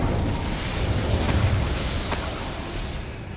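An Incendio fire spell cast in the video game Hogwarts Legacy, heard as a loud rushing roar of flame with a deep rumble that slowly tapers off.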